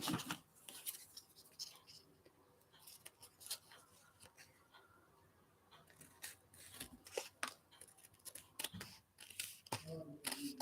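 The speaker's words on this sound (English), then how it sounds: "these aren't cut perfect because I'm cutting with scissors" Scissors snip through paper while a journal page is made, giving quick, close, irregular crisp cuts and rustles in uneven bursts.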